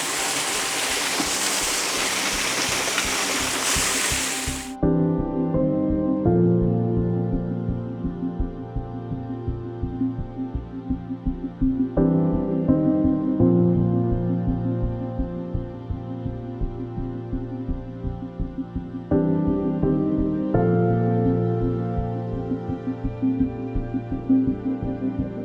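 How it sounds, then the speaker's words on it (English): Water splashes hard over a rock ledge at a waterfall, a loud, steady rush for about five seconds before it cuts away to music that carries on alone. "just focus purely on that water splashing over the ledge"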